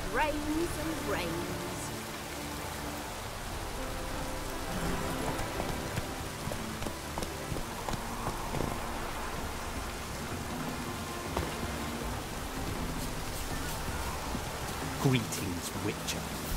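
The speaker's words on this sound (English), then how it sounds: "It just rains and rains." Steady rain falls in the Witcher 3 game world, a dense continuous patter with faint rumbles beneath, while a voice speaks over it at moderate level throughout.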